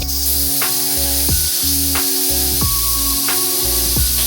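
A steady, loud hissing rush of steam escaping under pressure, continuous throughout with faint clicking pulses and a low rumble beneath.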